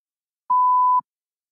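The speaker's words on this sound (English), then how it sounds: "You may begin to prepare your response after the beep." One steady electronic test beep, a clean mid-pitched tone lasting about half a second, sounds alone against silence to mark the start of response preparation in a spoken-language exam.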